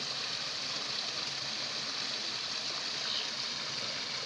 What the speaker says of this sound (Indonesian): Kita mancing di dam, masih satu sungai dengan yang tadi.